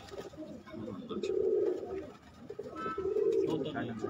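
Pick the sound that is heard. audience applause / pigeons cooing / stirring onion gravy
pigeons cooing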